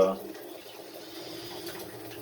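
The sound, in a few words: water draining from an electric water heater boiler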